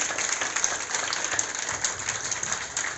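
Audience applause at a Mahashivratri function in Multan Nagar, a steady, moderately loud wash of many hands clapping throughout with no one speaking over it.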